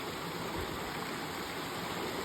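A crystal-clear rolling stream on a cool spring day, its water running steadily in a dense, continuous rush and babble that stays even and moderately loud throughout, with no voices.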